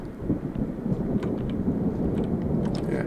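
A steady, rumbling thunderstorm rolls outside a house in the horror video game Within Skerry, a continuous low roar with faint scattered crackles and no voices.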